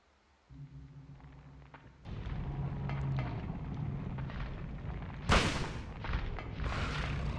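Shotgun blasts in Silent Hill (1999), a low rumbling ambience suddenly thickening into dense booming fire, with one sharp loud shot standing out near the end amid continued heavy noise.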